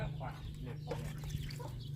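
Small chickens clucking on a farm, a steady run of soft clucks and peeps over a constant low electrical hum, moderately close.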